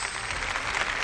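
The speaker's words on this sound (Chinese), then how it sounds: "让我们用热烈的掌声欢迎12位投资人的到来" A studio audience at a televised entrepreneurship show claps warmly to welcome twelve investors, giving a brief, dense burst of applause with no voices.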